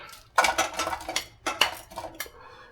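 Food going into a pan for a stewed apple oatmeal, with clattering of a utensil against cookware and scraping in quick irregular bursts, close and fairly loud, with no voices.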